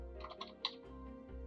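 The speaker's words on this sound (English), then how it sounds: "I could type in the information" Typing on a computer keyboard, with a quick run of soft, close key clicks and one sharper tap, faint against a low background hum.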